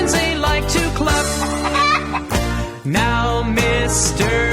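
Chickens cluck in a children's zoo-animal song, the clucking worked into a loud, dense musical backing with steady rhythm and no talk over it.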